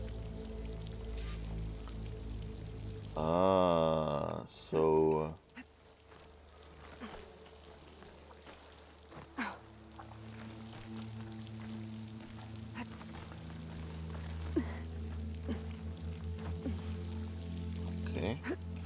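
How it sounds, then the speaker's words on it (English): Water streams into a wall in Horizon Forbidden West, a steady pouring trickle beneath game ambience, with a short loud burst of other sound early on and a voice speaking briefly. "Water's flowing into the wall."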